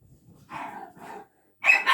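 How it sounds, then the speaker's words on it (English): Two dogs bark at home in short, sharp bursts, a few quick yaps close by followed by a louder pair of barks after a brief pause. "And you hear my dogs are carrying on."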